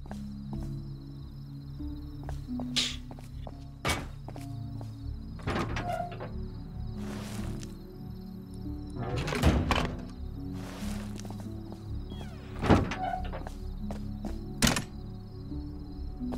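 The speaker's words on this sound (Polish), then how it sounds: "Na dole instaluję drzwi." Doors being installed in the survival game Rust: scattered thunks, knocks and placement clunks at irregular intervals over a low ambient background, with no talking.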